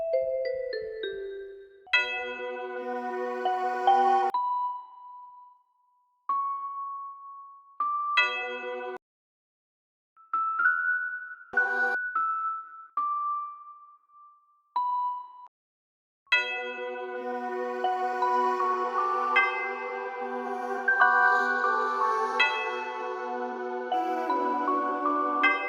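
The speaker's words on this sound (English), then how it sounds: "the bells sound so high quality." Bright, high-quality bell tones from a Detroit trap beat play as short melodic phrases separated by silences, then give way to a fuller layered bell pattern that rings on steadily at the end.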